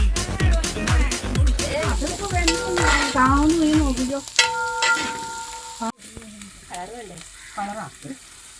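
Food sizzles and crackles in a pan while a utensil scrapes and stirs, with people talking over the cooking.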